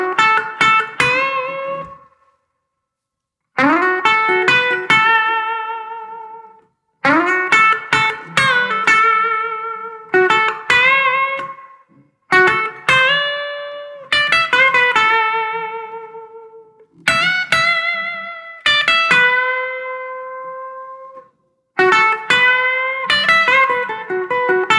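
An electric guitar plays a blues solo: phrases of bent, vibrato-laden notes with distortion and reverb, separated by short pauses, loud and close with no talking.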